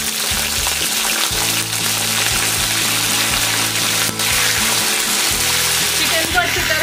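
Half a kilo of chicken fries in masala with cinnamon pieces for shahi chicken masala, giving a steady, loud, close sizzle that runs without a break over low, sustained background tones.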